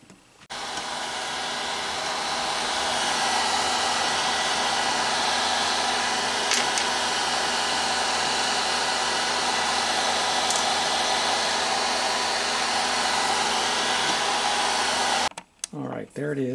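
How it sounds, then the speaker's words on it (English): A hair dryer switches on and blows with a loud, steady whoosh for about fifteen seconds, then cuts off abruptly, warming glue on an Alvarez Yairi guitar. "Then we'll warm it with a hairdryer."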